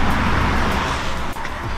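Cars parking nearby: a loud, steady engine rumble close at hand, with a brief dip near the end and no speech.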